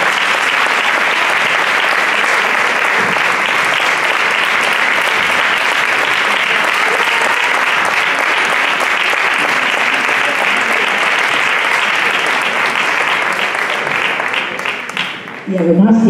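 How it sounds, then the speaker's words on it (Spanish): Sustained applause from an audience in an auditorium at a tribute event, dense and steady clapping that runs about fifteen seconds before fading, with a voice starting at the end. "Bueno, pueden aplaudir."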